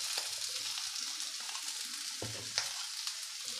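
Orange peel sautés in a hot pan, giving a steady soft sizzle with a few brief stirring scrapes and clicks. No one speaks.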